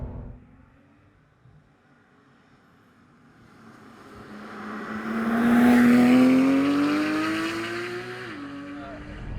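Porsche 911 991.1 GT3 with PDK gearbox revving hard as it passes, its engine note climbing and swelling to a loud peak mid-pass before easing off, then a brief shift and fresh rise.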